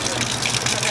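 Water gushes steadily from a makeshift tap made of a plastic bottle taped on as a funnel with a side knob, a brief close splashing pour.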